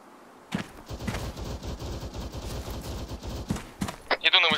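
Video game gunfire in HMG, a rapid string of distant-to-mid shots in bursts with a brief quiet start and a louder flurry near the end.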